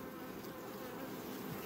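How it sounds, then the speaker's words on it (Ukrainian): Honey bees at an open hive during a colony inspection, a dense, continuous buzzing hum close by and fairly soft, with no voices. "Бджілки."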